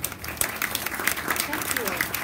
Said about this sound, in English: please give a big round of applause, Dr. Julie Miller